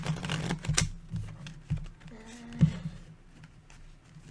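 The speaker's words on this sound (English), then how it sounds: "I'm so bad at shuffling." A deck of playing cards is shuffled by hand several times, giving brisk crackling riffles and soft taps up close, with a brief hum-like voice sound in the middle.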